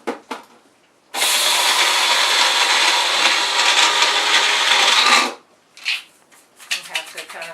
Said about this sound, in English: I'm going to use the bullet. It's a little bit different to the blade that breaks the nuts down